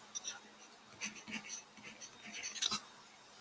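A marker or chalk writes numbers on a board during a scientific notation lesson, with soft scratchy strokes in short bursts, mostly faint, and a quiet voice speaking along.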